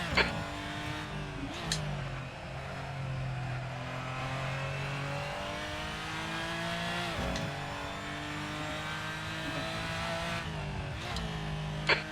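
A GT4 race car driven at Brands Hatch in Assetto Corsa: the engine drones steadily throughout, with gear-change blips near the start, middle and end.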